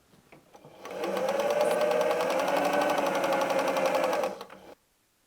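A sewing machine stitches fabric for a patchwork pumpkin Halloween placemat, running in one continuous rapid mechanical rattle for several seconds, close and clear, then stopping abruptly.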